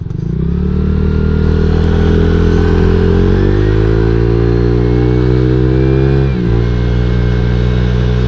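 A Honda Vario 150 scooter with a 58 mm oversize piston and stock head accelerates hard, its engine note rising steadily and loud and close, easing briefly near the end before pulling on.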